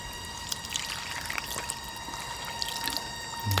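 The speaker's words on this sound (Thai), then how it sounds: "เติมน้ำครับ" Water is poured into a cooking pot while Mekong river fish is prepared, a steady close splashing and trickling pour with light drips throughout.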